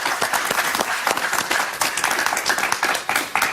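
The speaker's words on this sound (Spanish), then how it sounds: "Un aplauso para María Fernanda." Audience applause breaks out in a television interview studio after a call to clap for a senator, with steady dense clapping filling the room, fairly loud and close.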